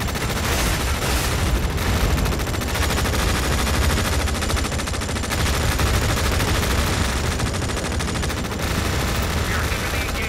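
Sustained automatic gunfire in the real-time strategy game EndWar during the battle at Fort Levski, dense and loud for ten seconds, with overlapping machine-gun bursts and occasional heavier booms.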